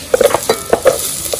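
Onion sautéing in canola oil in a pan, a close sizzle punctuated by several quick scraping stirs of a utensil against the pan, with no talking.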